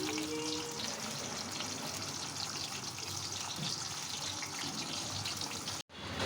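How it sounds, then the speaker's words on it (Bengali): Steady, dense hiss of pointed gourd frying in oil, close by, cut off by a brief silence near the end, no talking. "দেখো পটলটা যে তেলেতে দিয়েছিলাম এরকম লাল লাল করে এরকম ভাজা হয়ে গেছে"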